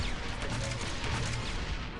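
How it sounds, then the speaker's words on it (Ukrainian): Gunfire in the video game Republic Commando, a dense, continuous rattle of rapid shots with a few sharper cracks, held at a fairly low, even level with no voices over it. "Мы стреляем."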